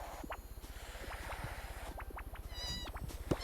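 Short, high cat meows repeat several times over a steady rhythmic buzzing hum, probably inside a block-building game, moderately loud with no talk.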